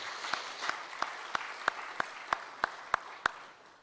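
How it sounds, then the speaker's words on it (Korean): A church congregation claps together in steady unison during a Sunday worship service, about ten evenly spaced sharp claps over a soft background wash, fading at the end. "하나님께 영광과 감사의 박수 한번 보내겠습니다."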